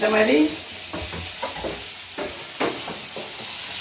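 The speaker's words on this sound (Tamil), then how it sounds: "பாருங்கள், இந்த மாதிரி வறுத்துடணும், பார்த்துக்கோங்க" Dried seer fish (vanjiram karuvadu) fries loudly in a pan, a constant oily sizzle and hiss broken by several scraping strokes as it is stirred, heard up close.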